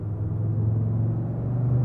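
A 2021 Audi RS3 engine rumbling at a steady low idle or cruise, close and continuous with no speech over it.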